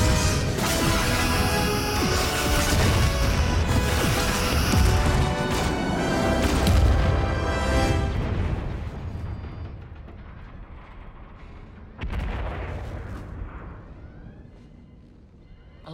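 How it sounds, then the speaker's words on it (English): Starship torpedoes and phasers fire in a Star Trek game battle between the Enterprise-D and the Borg, a dense loud barrage of blasts and crashes. It fades into a rumbling tail, then a sharp impact hits late and dies away. "Torpedoes away, locking phasers and returning fire."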